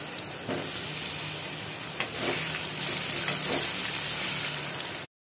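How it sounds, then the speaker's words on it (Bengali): Mushrooms sautéing in oil in a pan, a steady broadband sizzle throughout with a few brief stirring scrapes, fairly close, no talk, ending abruptly in silence. "একটুখানি আমাদের যে মাশরুমগুলো ছিল সেগুলো সতে করে নেব।"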